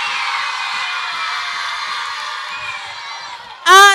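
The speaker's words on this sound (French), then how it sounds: "est-ce que vous pouvez pousser des cris de joie pour me dire que vous êtes contents?" A crowd of children shouts and cheers with joy, a sustained loud chorus of high-pitched voices that holds for several seconds and then fades, before a single adult voice breaks in at the end.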